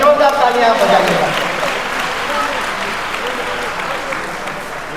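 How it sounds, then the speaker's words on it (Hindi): Applause from a crowd at a political stage event in Haryana, India, loud at first and then gradually thinning out over a few seconds. "जोरदार तालियां बजाइएगा।"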